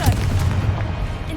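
A Confringo explosion spell goes off in the Hogwarts Legacy video game, a dense, booming blast with a low rumble that fills the whole short moment at steady loudness.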